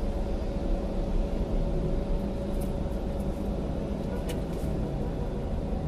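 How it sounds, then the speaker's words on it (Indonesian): Dense Jakarta rush-hour traffic, every lane packed with cars and motorbikes, makes a steady broadband road roar with engine hum and faint honks, continuous and moderately loud. "Dan semua lajur penuh mobil motor."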